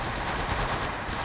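Rapid automatic gunfire in Apex Legends mobile, a loud, dense burst of closely spaced shots running steadily throughout with no pauses.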